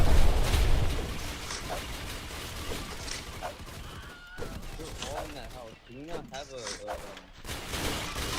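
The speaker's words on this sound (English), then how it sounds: "they're shooting at us" Roblox gunfire rattles in rapid bursts of sharp cracks, loudest at the start and then scattered and thinner, with a voice talking over the shots.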